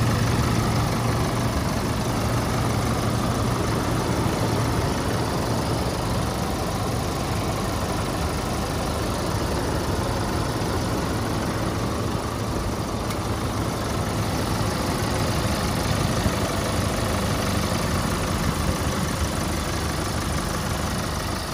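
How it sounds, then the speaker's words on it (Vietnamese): The diesel engine of a 2016 Chevrolet Colorado LTZ pickup idles steadily for the whole stretch, a continuous low, even clatter with no talking over it. "Và đây là cái tiếng động cơ của chiếc xe nhé."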